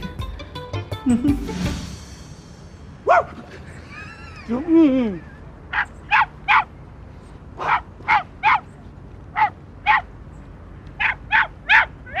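A dog barks repeatedly in short, sharp bursts at a middle distance, with a few whimpering yelps early on and some talking in the background.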